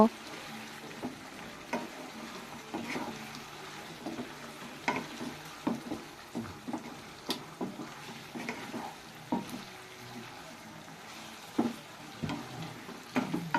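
Whole cloves, cinnamon sticks and cardamom pods frying in a pan for a coriander chicken dish while being stirred, giving a steady sizzle broken by repeated scraping strokes, close and moderately loud.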